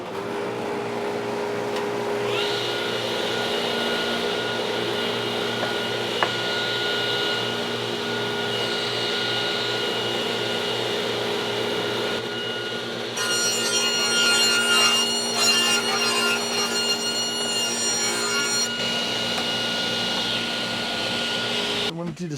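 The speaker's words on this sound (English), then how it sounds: "So I'm going to set up the saw to do that, and we'll get started with cutting that." A saw rips Home Depot pine boards to 5 3/4 inch with a loud, continuous motor whine, and a rougher, busier cutting stretch comes through partway in.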